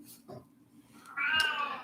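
A house cat gives a faint short chirp, then a louder drawn-out meow close by, with no talk over it.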